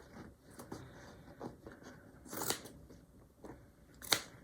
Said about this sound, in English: I want to just cut this lining of this pocket away from the rest of the